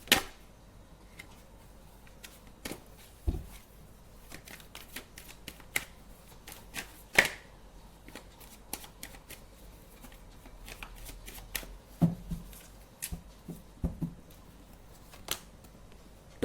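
Tarot cards are shuffled close up in sharp crisp riffles and snaps, with many quick card flicks and taps spread through a steady sequence. Only a faint background hiss sits beneath them.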